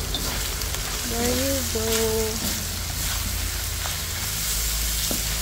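Mushrooms frying in a pan for pancit guisado, a steady close sizzle throughout with stirring, and a brief voice speaking over it.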